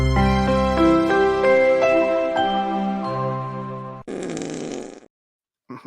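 Cartoonish fart noise sound effect: a loud, drawn-out buzzy tone that steps downward in pitch for about four seconds, then a rough, noisy sputter, a short silence and a tiny final blip.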